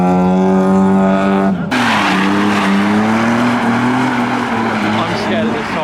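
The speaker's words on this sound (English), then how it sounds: "Someone's skidding" Modified car at a car meet, a loud engine drone switching abruptly into sustained tyre squeal and skidding noise that carries on close by for several seconds, with voices audible in the background.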